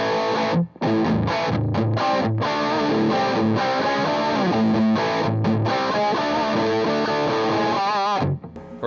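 Electric guitar played through an Orange Micro Dark amplifier, a rock-and-roll rather than heavy tone, with driven, sustained chords and riffs that ring loudly and steadily for about eight seconds before cutting out.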